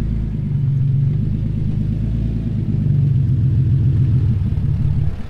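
A vehicle drives up and back down through a sandy sand trap, its engine giving a continuous, close, low rumble that swells slightly toward the end.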